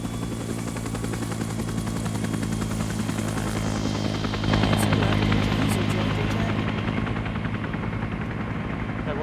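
A military helicopter in a video game roars in to land, rotor thump and turbine whine loud and close, swelling midway, while distant gunfire crackles and voices talk faintly beneath.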